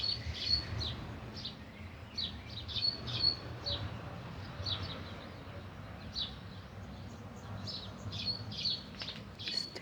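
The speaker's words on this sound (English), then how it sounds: "you can probably hear birds singing all around" Birds chirp and sing outdoors in short repeated calls scattered throughout, moderately distant, over a steady low background rumble.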